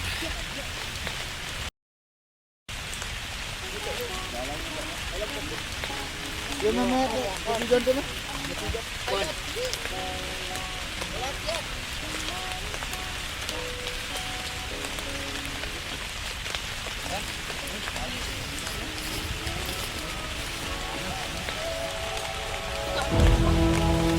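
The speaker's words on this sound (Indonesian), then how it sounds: "2200 mdpl dalam kondisi hujan." Steady rain hisses down at a foggy mountain summit campsite at 2,200 metres where tents are pitched, a constant wash of drops on surfaces with faint voices murmuring in the background.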